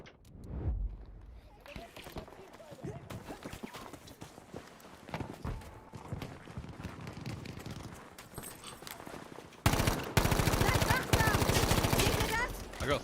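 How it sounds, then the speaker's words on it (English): Gunfire in the Western shooter game Red Dead, scattered sharp shots and hoofbeat-like clatter under someone talking, then a louder dense burst of firing near the end. "I got 3 headshots there."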